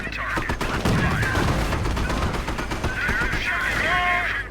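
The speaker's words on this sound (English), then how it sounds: "Cannon on target. Fire." An M4 Sherman tank's cannon fires in the Company of Heroes video game, amid dense, continuous battlefield noise of heavy blasts and rattling gunfire, with a voice faintly audible near the end.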